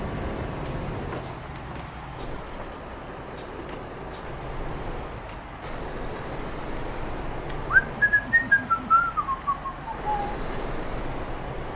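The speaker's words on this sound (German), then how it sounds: "Es regnet, die Erde wird nass." Steady rain patters in the truck-driving game Euro Truck Simulator 2 as a soft, continuous wash throughout, with a brief whistled melody rising over it near the end.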